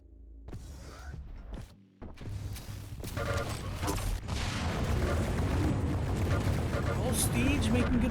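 A lightning gun fires in a Quake duel as a dense, crackling stream of electric buzzing that builds and holds loud. Isolated thumps and brief silent gaps come first, and a commentator talks over the action.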